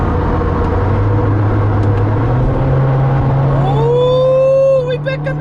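Subaru WRX engine heard from inside the car during a quick downshift, droning steadily at first. Near the end it rises in a sharp rev blip with a rising whine, then drops away.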